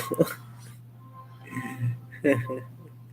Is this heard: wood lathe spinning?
no